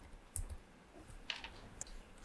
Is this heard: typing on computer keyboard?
yes